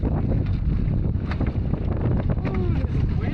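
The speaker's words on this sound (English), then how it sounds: "Ooh, this is windy" Strong wind on an open lake in Algonquin while canoeing, roaring and buffeting the microphone in a loud continuous rush, with water lapping and faint creaks underneath.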